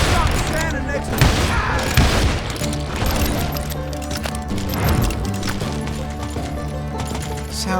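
Gunfire from hired guns in the Western shooter Call of Juarez Gunslinger: repeated cracks and booming shots, loud and dense, blended with a musical score and a voice talking over it.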